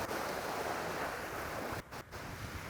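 Ocean waves surge up a public beach on an incoming tide, washing over the sand and tossing shells, a steady close broadband wash with wind on the microphone and a brief drop near the end.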